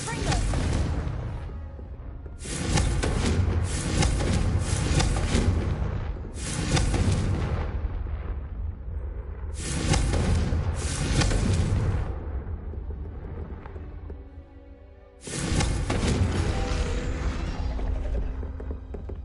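Confringo explosive spells fire again and again in a wizarding video game: loud booming blasts that come in clusters with rumbling tails, separated by quieter gaps.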